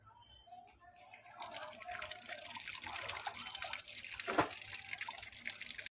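Tap water runs and gushes for washing a leaf, starting after a quiet moment and then pouring steadily and close, with light splashing and a brief louder spatter near the end.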